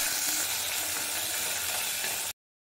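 Shallots, dried chili and curry leaves sizzle steadily in hot oil for a banana flower poriyal, a loud, continuous frying hiss that stops abruptly near the end.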